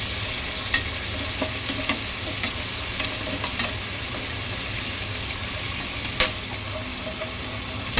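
Sliced onions fry in the oil left from frying chicken for a catering-style chicken biryani, giving a steady sizzle broken by the repeated scrape and clack of a spoon stirring the pan, close up with no talk.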